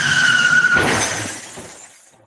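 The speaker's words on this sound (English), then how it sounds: "Car crash sound." A car crash sound effect plays as a short loud burst with a skidding squeal, breaking into crunching, shattering debris that fades out over about two seconds.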